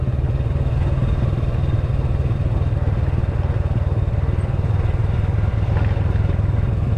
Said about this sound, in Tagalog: Pasensya na kayo guys pag ako nagpapatakbo ng motor mabagal.